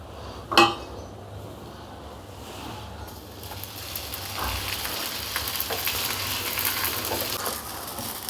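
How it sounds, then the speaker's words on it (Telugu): A chapati roasts in a little oil on a pan, giving a soft, steady sizzle that builds after a brief clink near the start and carries on close by without talk. "ఇప్పుడు ముందుగా మనం చపాతీలు కాల్చుకోవాలి కొంచెం ఆయిల్ వేసుకొని"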